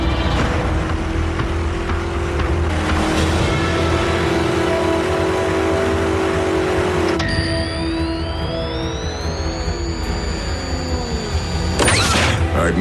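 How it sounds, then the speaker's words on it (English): Car engine in an animated Transformers series, a loud continuous hum with rising and falling revs, then a sharp whining shift in pitch near the end, heard alone without talk. "I'd know the hum of that engine anywhere."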